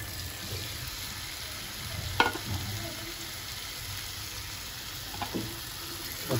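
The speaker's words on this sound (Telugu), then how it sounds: "ఇప్పుడు దీంట్లో మనం కడిగి పక్కన పెట్టుకున్నటువంటి చికెన్ వేద్దాం" Washed chicken pieces hit a hot frying pan and sizzle with a steady broadband hiss, broken by a couple of sharp clatters near the start and later, with no talking.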